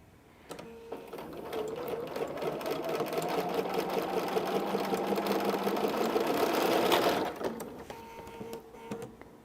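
A sewing machine runs in one steady, close, continuous whir for about seven seconds while stitching a Christmas quilt, then stops, followed by a few faint clicks and handling sounds.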